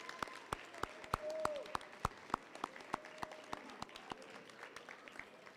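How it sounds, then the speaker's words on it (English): Students at a seventh-grade school awards assembly applaud, with sharp, fairly loud individual claps standing out over a softer wash of scattered clapping and faint background murmur, heard from within the room. "Students, let's give them a round of applause."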